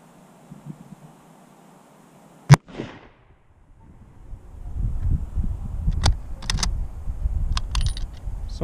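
A single loud, sharp shot from an M38 Swedish Mauser rifle cracks out close by, followed by a short echo, then quieter rustling, clinking and handling noises.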